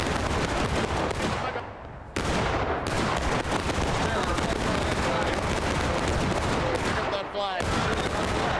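A 95-man company charges and fires musket volleys in the video game War of Rights during a 1776 event match. Dense, continuous crackling gunfire rolls on loud throughout, with a brief shouted voice.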